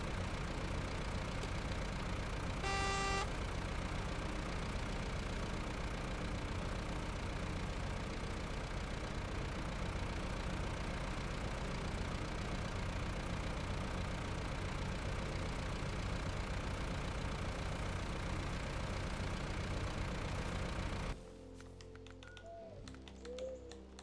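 A slow, loaded truck engine in the Snowrunner video game runs as a steady, even mid-range drone at constant loudness, then drops to a quieter, changed sound near the end.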